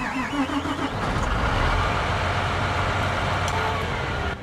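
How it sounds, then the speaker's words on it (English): A tractor engine in Farming Simulator 22 cranks and catches, then settles into a steady, loud, low rumbling idle that continues to the end, with no talk over it. "let's turn on that engine"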